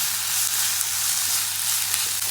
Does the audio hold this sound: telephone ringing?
no